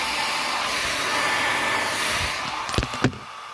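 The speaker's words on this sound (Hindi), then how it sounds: "मज़ा आता है ड्रायर से बाल ड्रायर करने में, गरम गरम लग रहा है" A hair dryer blows hot air onto hair in a steady, close whooshing roar, then a few brief knocks and shifts as it is moved and switched off.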